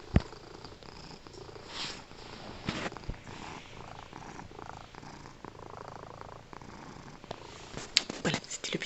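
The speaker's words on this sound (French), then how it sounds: "le chaton qui fait des ronrons de la mort" A kitten purrs softly and steadily close by, a faint, low rumbling texture with a few small bumps and rustles.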